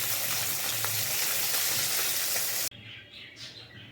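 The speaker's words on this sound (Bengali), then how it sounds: "মাছটা আমি লাল লাল করে ভেজে নিয়েছি" Fish sizzles in hot oil in a kadai. A loud, steady hiss fills most of the moment, then cuts off abruptly and leaves quieter background sound.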